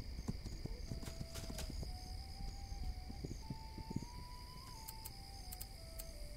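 Horses clip-clop along in the video game This Land is My Land, with soft irregular hoofbeats and a faint whinny over a steady ambient game soundscape and music.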